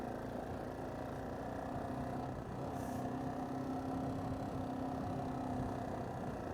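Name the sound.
Kawasaki Bayou 400 4x4 ATV engine running uphill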